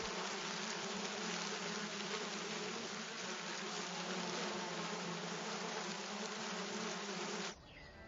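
A dense swarm of brine flies hums steadily along a lakeshore, a continuous even buzz at moderate level that cuts off abruptly near the end.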